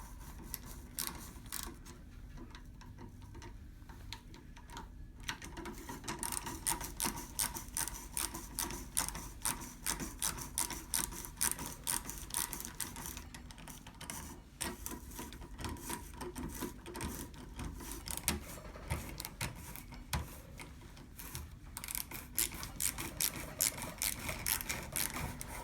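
An 8 mm sharp-tipped starter reamer bores into a sawbone model during a practice reverse shoulder procedure, giving a steady mechanical whirring and grinding that runs continuously with dense rapid ticking throughout, close and fairly faint, with no talk.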